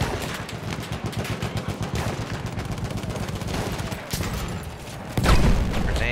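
Gunfire and grenade explosions in the Battlefield 1 video game: dense rapid shots crackle throughout, and a heavy blast booms near the end.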